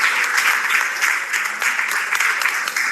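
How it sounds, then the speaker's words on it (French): Audience applause in a room, with a crowd clapping steadily and evenly for a few seconds, loud and close, no voices standing out. "on peut t'applaudir parce que c'est courageux"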